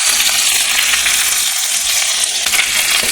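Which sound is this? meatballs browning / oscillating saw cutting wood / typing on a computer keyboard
meatballs browning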